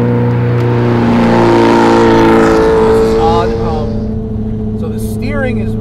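Turbocharged Ferrari 308 making about 570 wheel horsepower, driven on a race track on cold Toyo R888 tires; a loud, steady engine drone with strong harmonics holds throughout, easing slightly toward the end, with a voice talking over it.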